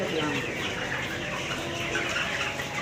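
A shed full of 29-day-old broiler chickens at a poultry farm keeps up a steady, crowded clucking and murmuring, a constant flock hubbub at even loudness throughout.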